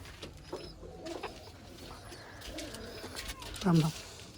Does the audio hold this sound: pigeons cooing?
yes